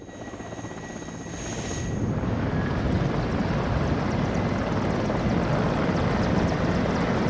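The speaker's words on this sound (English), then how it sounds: "Really cool helicopter assault coming in." Military helicopters sweep in on an assault run in the WARNO war game, a dense, steady rotor and engine roar that swells over the first two seconds and then holds loud and continuous, with no talk.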